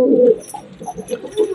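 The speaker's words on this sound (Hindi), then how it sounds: "आवाज आप सुन रहे हो कितनी कड़क आवाज है हमारे कबूतरों की" Pigeons cooing up close, several soft throaty coos in a row, loud and clear with faint higher chirps in the background.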